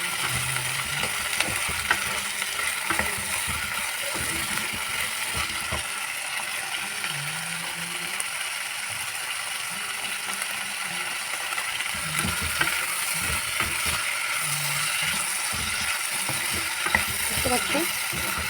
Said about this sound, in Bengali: এখন এটাকে আমি সুন্দর করে ভেজে নিব।